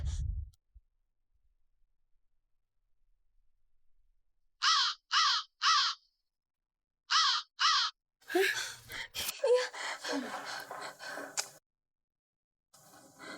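Harsh crow caws come in two short bursts, three calls and then two, loud and close, followed by rustling and other noise, in an Indonesian lenong comedy sketch.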